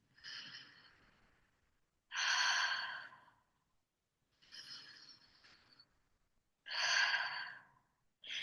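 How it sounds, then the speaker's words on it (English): A person doing slow breathwork for stress relief, drawing long breaths in through the nose and pushing them out through the mouth; four alternating breaths, the mouth exhales louder and sighing, close and alone. "you'll take an inhale through your nose and you'll exhale through the mouth."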